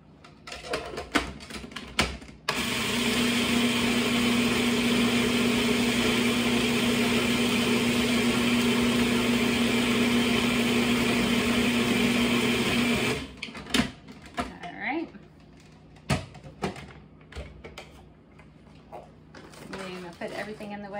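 A food processor pulses a gluten-free vegan lime tart crust mixture, giving a loud steady whir of about ten seconds, with short bursts and clatter before and after and a person talking nearby.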